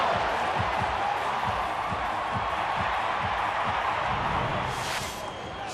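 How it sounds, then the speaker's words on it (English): Home Colorado Rockies crowd at a baseball game against Los Angeles roaring after a long home run to right center field, with a steady wash of cheering and rhythmic thumps beneath it. "Sound of that home crowd, you never get tired of hearing that noise."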